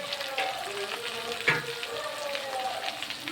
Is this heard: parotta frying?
yes